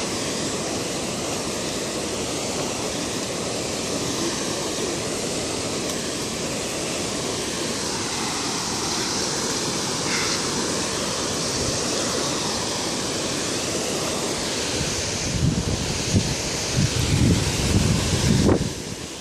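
A San Juan river in flood rushes past as a loud, unbroken roar of churning water, heavy wind buffeting the microphone throughout and growing rougher near the end.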